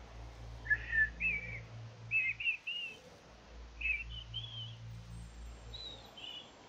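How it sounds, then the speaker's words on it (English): A person whistles a simple tune in short melodic phrases with pauses, fairly faint, over a low rumbling background hum. "I whistled the first tune that popped into my head."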